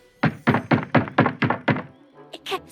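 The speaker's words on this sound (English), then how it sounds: "Whatever was outside heard these and began banging on the door." Heavy pounding on a wooden door, seven loud, evenly spaced thuds in quick succession, followed by a brief pause and a few fainter, higher knocks.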